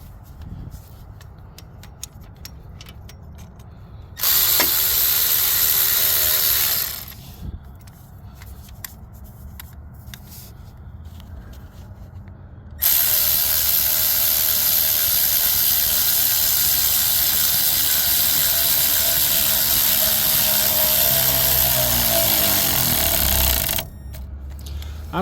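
Ratchet tightening a clamp on an engine's intercooler hot-side pipe during a cylinder 6 misfire repair, two loud bursts of rapid ratcheting, one short and one long, separated by quieter workshop clicks and rustling.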